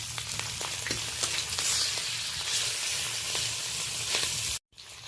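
Hilsa fish frying in oil, a dense crackling sizzle with light scattered pops and gentle stirring, close and steady, cutting off sharply for an instant near the end before resuming.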